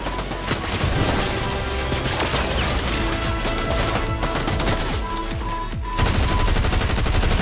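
Fortnite gunfire rattles in dense, loud volleys of shots and impacts, with continuous game sound throughout.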